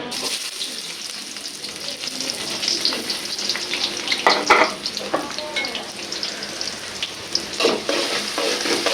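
Large pangas catfish frying in hot oil in a big kadai, a steady close crackling sizzle with bursts of louder spattering and occasional stirring scrapes, no voices.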